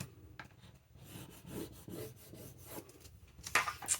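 Paper being scored on a scoreboard tool while making a notebook, with soft scraping and rubbing strokes close by, followed by a few light taps and rustles.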